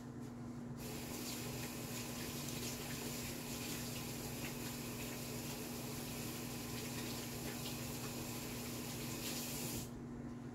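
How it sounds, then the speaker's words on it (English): Tap water runs steadily into a sink during hand washing, a faint, continuous hiss and splash with a low hum beneath, starting and stopping abruptly. "Let me wash my hands."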